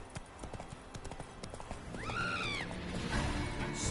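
A horse galloping in The Witcher 3 game, quick rhythmic hoofbeats close by, with a brief neigh rising midway before the gallop continues under a louder rush of background.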